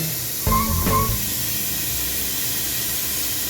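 Two onions, one medium and one large, dropped into hot oil in a pan, a sudden loud hiss and sizzle that settles into a steady fainter frying noise.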